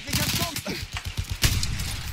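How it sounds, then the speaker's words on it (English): Battlefield 1 gunfire sounds as a quick run of muffled rifle and machine-gun shots in a multiplayer battle, moderately loud and slightly distant, with one sharper report standing out. "I hear gunfire."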